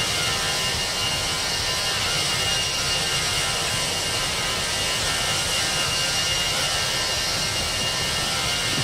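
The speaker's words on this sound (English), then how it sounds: "I think that's the engines making that noise." Airbus A319 jet engines hum in the X-Plane 11 flight simulator, a continuous broadband roar with a steady whine, constant in level and loud throughout, with no talking over it.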